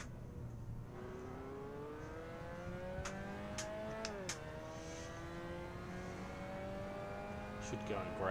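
A race car in the Assetto Corsa game accelerating on a race setup, the engine note climbing steadily through the gears with brief shifts, heard fairly quietly with a few sharp clicks and faint speech.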